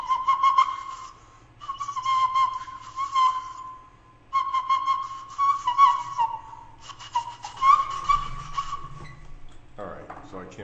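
A small homemade bamboo bird whistle, cut from the end of a flute, is blown in several short, wavering phrases, close and fairly loud, with brief pauses between them.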